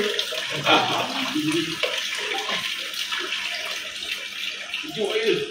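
Water sprays continuously while a York ceiling-mounted air conditioner is washed during servicing, a steady loud hiss and splash with nearby voices faintly heard beneath it.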